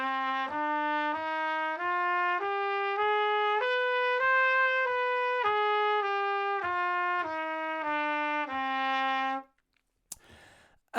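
Trumpet climbing and then descending a scale in slurred, connected notes, close and steady for about nine seconds, followed by a brief clatter after it stops.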